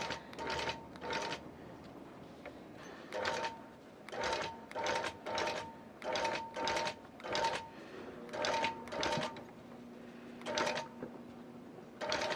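A sewing machine bastes around the edge of an antique quilt in repeated bursts of rapid mechanical stitching, each run lasting about a second with short pauses between, close and clear.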